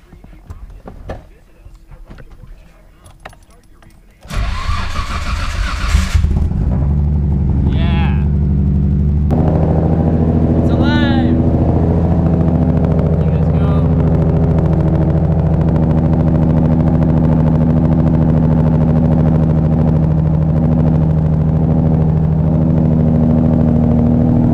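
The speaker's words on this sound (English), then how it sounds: "Let's go ahead and fire this thing up." A big-turbo Nissan Skyline R33 on a fresh build cranks and fires up around four seconds in, then settles into a loud, steady, close idle with a few blips, after quiet background sound at the start.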